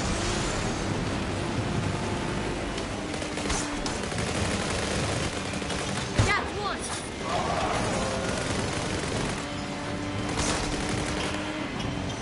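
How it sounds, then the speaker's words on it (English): Gunfire rattles in the video game Fast & Furious Crossroads during a train raid, dense bursts buried in a constant roar of engines and game noise with voices talking over it. "We gotta stop that gunfire."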